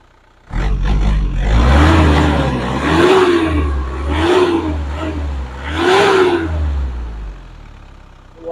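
A 2006 Isuzu Panther direct-injection diesel engine starts from quiet and revs up repeatedly, a loud close rumble that rises and falls in four distinct throttle blips with no talking.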